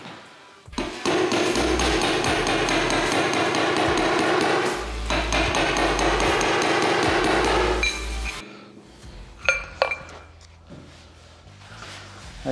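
A body hammer knocks dents out of a panel van's sheet metal in a long run of rapid, loud, ringing metallic blows, stopping for a short gap before a few final, sharper clinks.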